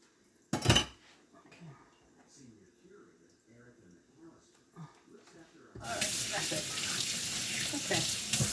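A cutting board clatters against a kitchen sink, followed by quiet handling, then a tap starts running and water pours steadily over the board while it is washed.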